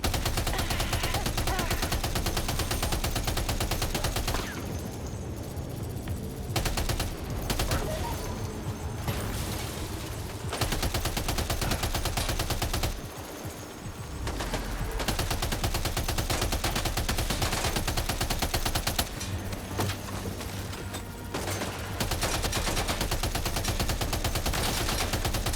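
Heavy, sustained gunfire from the video game Death Stranding 2 roars almost continuously, with dense bursts and brief dips, mixed with loud game soundtrack and effects.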